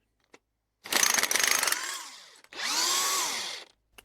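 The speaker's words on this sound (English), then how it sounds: "Just take out all of the bolts that are in the spindles." Power-tool whirring as spindle bolts come out of a 2007 Club Car golf cart during a 6-inch lift kit install, using a 3/8 Allen bit: two close, loud bursts of about a second each, separated by a short pause, with a faint tick before.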